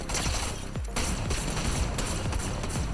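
Rapid bursts of Underworld SMG gunfire from a first-person shooter game, loud and dense, with sharp repeated shots and brief pauses between volleys.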